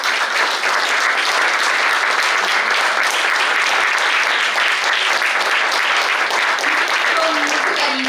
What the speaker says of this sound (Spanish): les pido a todos un aplauso para los poetas